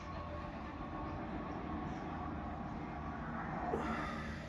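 A Japanese superconducting maglev bullet train runs with a steady, dense rumble and a broad rushing roar, continuous and even throughout with no voices.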